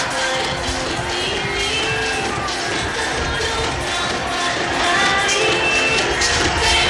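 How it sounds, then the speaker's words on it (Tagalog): A huge outdoor crowd shouts, cheers and claps without pause to welcome Pope Francis on his arrival in the Philippines, a loud, dense and continuous roar. "Hindi po tumitigil ang crowd sa kanilang pagsigaw at pagpalakpak."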